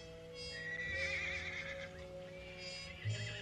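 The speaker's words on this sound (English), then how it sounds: "Seems to me I heard a horse." A horse neighs in the distance, a faint high whinny rising and wavering for about a second and then fading, with a quiet, open outdoor background.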